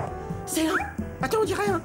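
A cartoon dog gives short whimpering yips and bow-wow barks, mixed in among lively French speech from the characters.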